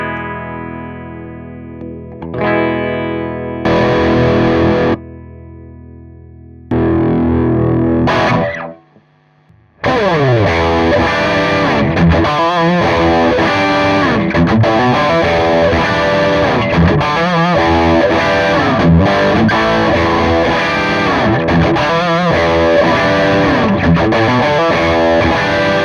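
Distorted electric guitar chords and riffs through an Orange amp and a Yerasov British Citrus BC-5 preamp ring out with a few pauses, then a continuous, loud, saturated playing passage with no talking.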